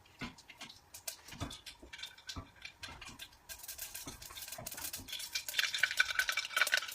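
Cumin and mustard seeds splutter in hot oil, with close, quiet irregular pops and crackles that grow denser and join a sizzling hiss toward the end.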